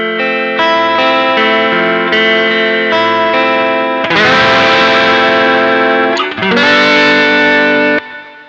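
Electric guitar played through a Bleak Disctic Electric Rec Head effect, starting with light picked notes, then a loud strummed chord around four seconds whose pitch briefly dips and comes back, followed by a second strum; lo-fi and distorted, no talking.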